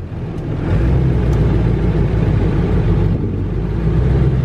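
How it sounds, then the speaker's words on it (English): A pickup truck engine with the air conditioning switched on rumbles loud and steady at close range, a dense continuous drone with no voices. "it's time to turn on the truck"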